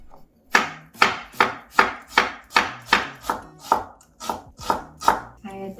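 A knife chops half an onion into small pieces on a cutting board for Korean perilla leaf pancakes, about a dozen crisp, evenly spaced chops, close and loud, with no voices.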